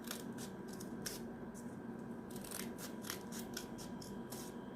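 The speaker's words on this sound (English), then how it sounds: "So tag them together and then cut them together. Okay, cut them like this." Scissors snip repeatedly through stacked paper strips for a craft toothbrush's bristles, making a series of quiet crisp cuts over a soft steady background hiss.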